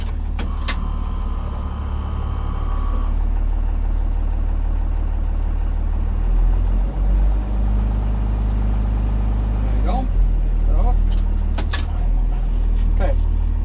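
A school bus engine in drive runs at a steady low drone, held raised for several seconds, with a few brief clicks and rattles near the end.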